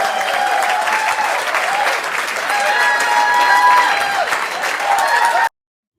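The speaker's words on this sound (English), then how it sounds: "First of all, let me applaud that." Audience applause during an interview with a New York City mayoral candidate: steady, dense clapping with a few whoops and some overlapping voices, close and loud for about five seconds before cutting off abruptly.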